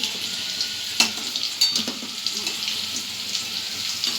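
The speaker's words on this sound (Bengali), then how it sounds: "আমার আলুটা ভাজা হয়ে গেছে, এবার এই আলুটা আমি তুলে নিচ্ছি" Fried potatoes are lifted out of sizzling oil in a pan, a steady close hiss of frying with a few clinks and scrapes of the spoon against the metal.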